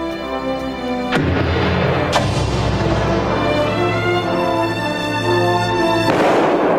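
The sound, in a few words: shotgun blast in Farthing Wood animated scene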